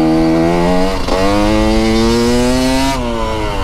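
A GPX TSE 250r motorcycle fitted with a Smart Carb carburetor revs loud and close, its engine pitch climbing steadily with a brief dip midway, then dropping as the throttle closes.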